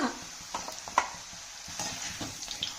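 Layered buns fry in a pan with a soft, steady sizzle, punctuated by light scrapes and a few clinks of a utensil stirring, quiet and close.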